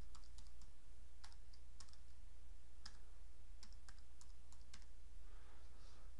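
Computer keyboard typing during database data entry, quick irregular bursts of key clicks with short pauses, close and fairly faint over a steady low hum, no talk.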